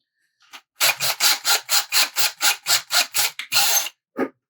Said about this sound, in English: now I just drilled all the way through